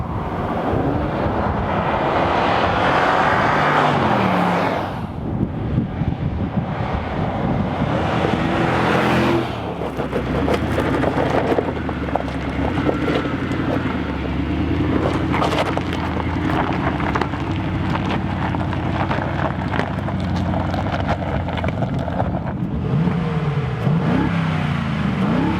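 Wind gusts buffet the microphone outdoors beside Mercedes G-Class SUVs (G500, G550, G63 AMG) on varied terrain, a steady loud rushing roar with surges and a low vehicle rumble underneath, no talking.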